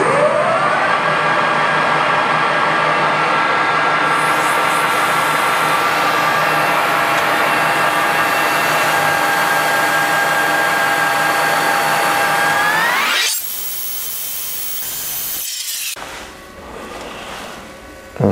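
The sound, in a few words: machining a 3 mm cutting pass in metal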